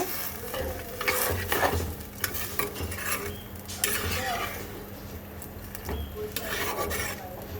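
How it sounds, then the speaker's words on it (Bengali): Tengra fish chorchori curry being stirred in a pan after water is added, a steady scraping and rubbing of a spoon against the pot with a light simmering sizzle underneath, close and continuous. "জলটা দিয়ে দেওয়ার পর মিক্স করে দেব"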